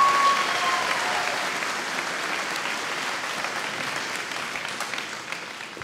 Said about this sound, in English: can I have a huge, huge, huge round of applause for young Harry Moriarty